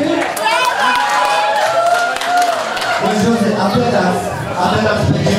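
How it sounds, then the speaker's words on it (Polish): Wedding guests clap and cheer at a reception, a dense burst of applause mixed with loud crowd chatter and people talking over it. "i gromkie brawa dla Marty."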